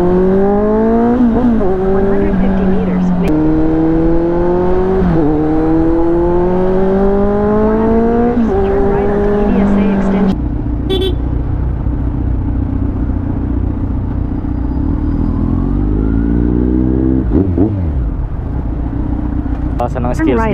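Kawasaki Z900SE motorcycle engine on a night ride along a boulevard, loud and close with rising revving sweeps through repeated gear changes, then a lower steady drone, continuous throughout.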